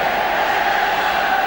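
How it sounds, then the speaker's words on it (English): A stadium football crowd roars steadily as it urges England on in a 1980 World Cup qualifier against Switzerland, a dense, sustained wash of massed voices and cheering with no break across the clip. "And the crowd, as you can probably hear, trying to raise England now to look for that 3rd and maybe 4th goal."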